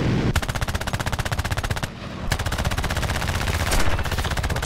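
Aircraft machine guns blaze in long rapid bursts in War Thunder during a Ki-10-I air battle, loud and close, with two brief pauses between the chattering volleys.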